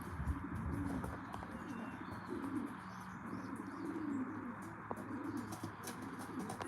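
Racing pigeons coo outdoors in a low, repeated rhythmic burble, several soft phrases a second or so apart, faint against a steady background hiss, with an occasional chirp and no speech.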